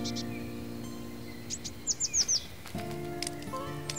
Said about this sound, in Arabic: على قمم شجر الشوح تستعد طيور القرقف الأزرق للشتاء المقبل.